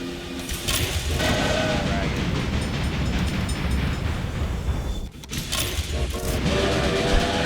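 A Tyson 10-wheeler steam locomotive runs in the railroad video game Railway Empire, giving a steady, loud rumbling rail noise with clanking mechanical texture and a brief dip partway through.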